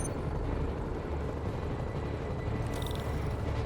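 Helicopters flying over the city in Spider-Man on PS5, a steady broadband rotor and engine drone holding at even loudness throughout, with a brief higher-pitched tone near the end.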